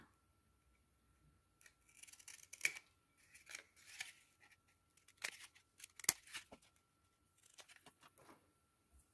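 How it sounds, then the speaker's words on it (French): Scissors snip at angles across the flaps of a paper mini album during crafting. The short, crisp cuts come one after another in irregular bursts, close to the listener, some louder than others, with quiet pauses between them and no voice. "Je vais venir couper des biais sur chaque ailette, donc comme ceci."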